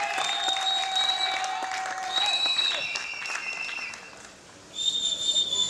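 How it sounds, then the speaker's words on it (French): Guests at a civil wedding applaud the couple with a lively burst of clapping, punctuated by several shrill whistles. It dips briefly, then surges again toward the end. "Applaudissez-les"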